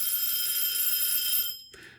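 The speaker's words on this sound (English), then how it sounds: "that's my laundry alarm" A laundry machine alarm sounds a loud, continuous high-pitched electronic tone that cuts off, followed by one short beep after a brief gap. Nothing else is heard with it.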